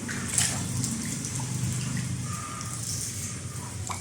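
Rainwater floods into a house during heavy rain, a steady broadband wash of running and splashing water that continues without a break, fairly close, with no voices over it.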